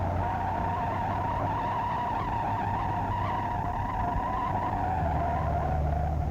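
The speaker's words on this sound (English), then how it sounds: "That's a 1954 Chevrolet taking a curve." Tires of a 1954 Chevrolet squealing as the car takes a curve, a sustained loud, steady screech lasting several seconds over a low engine hum, with no voices.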